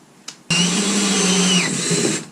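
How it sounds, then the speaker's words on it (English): A power drill with a step drill bit whirs loudly and steadily for about two seconds, its pitch dipping briefly as the bit cuts into a kayak, then winds down. "I got a step drill bit in here, so I'm going to get started with this."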